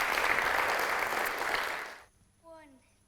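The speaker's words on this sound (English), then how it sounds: "Can we give them a round of applause, please?" Applause for a Year 6 song performance fills the first two seconds at moderate volume, then cuts off sharply, leaving a short spoken phrase in near quiet.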